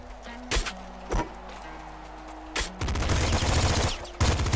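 Pop gun firing in the video game Nuclear Throne, a few sharp separate shots and then a dense rapid burst of gunfire, loud and close, with another shot at the end.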